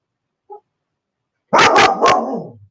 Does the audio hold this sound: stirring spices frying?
no